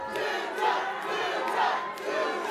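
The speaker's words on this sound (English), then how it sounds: "Crowd is chanting for Tony." A wrestling crowd at a Juggalo Championship Wrestling event chanting for Tony, with a loud, sustained roar of many voices rising and falling in rhythmic waves, filling the arena.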